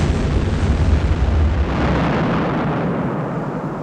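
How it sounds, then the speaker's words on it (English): An RAF ten-ton Tallboy-type bunker buster bomb explodes beside a viaduct in 1945, a loud, dense roaring blast that stays heavy for a moment and then slowly thins into a rumble. "A feature of the big bomb is the crater it makes before it goes off."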